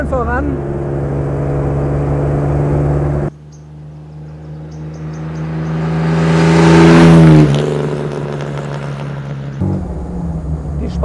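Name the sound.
1954 Jaguar XK 120 engine while driving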